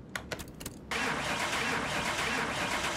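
In Car Mechanic Simulator 2021, a car engine turns over with a few quick cranking clicks, then catches and settles into a loud, continuous roar.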